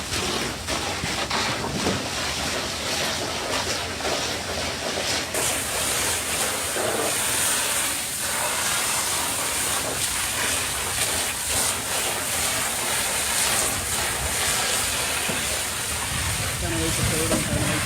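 Firefighters spray water onto a building fire, producing a steady, loud hiss of steam and rushing water that fills the whole stretch, with voices faintly under the noise.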